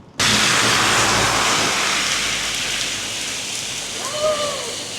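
Rain starting to fall in Hong Kong, a sudden loud, dense hiss of drops on surfaces that sets in all at once and holds steady, with a faint tonal whistle near the end.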